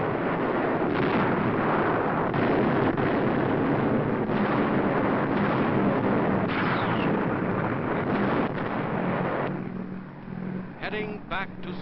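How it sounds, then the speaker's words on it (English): Massed B-29 Superfortress bombers over industrial targets in Tokyo, a dense continuous roar of engines and rumbling blasts, with a narrator speaking over it. "For 2 hours, the mass concentration of B-29s pounds industrial targets."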